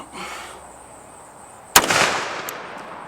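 A single sharp, loud blast from a 500 Magnum revolver firing a 700-grain hard cast bullet into a truck hood, with a brief ringing decay after the shot outdoors.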